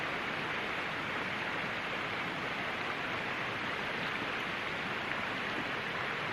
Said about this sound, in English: Oh well, I'm sitting in the rain